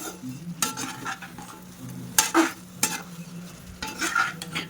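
Stirring and mixing onion gobi manchurian in a pan, with spoon scrapes and clatter in bursts over a low sizzle, close and moderately loud, no talking.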